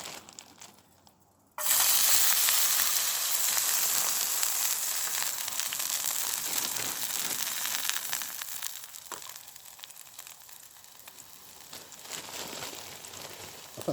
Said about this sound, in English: So I'm going to start off by frying the frozen bits.